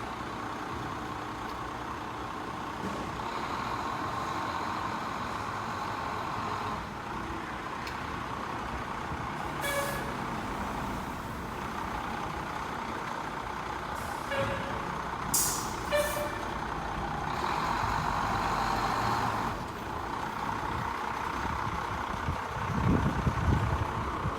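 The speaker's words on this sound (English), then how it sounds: "I always get excited when the fire trucks come out." A fire truck idles with a steady engine rumble, then releases sharp hissing bursts of its air brakes as it pulls out, heard from nearby on a city street without talking.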